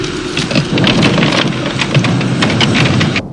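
Electric storm with a steady rumble of thunder and heavy rain, loud and dense throughout with no voices, cutting off abruptly near the end.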